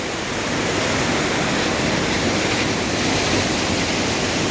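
Rushing water of the Arun river beside a dam in Nepal, a loud, dense and unbroken roar that fills the whole span with no voices.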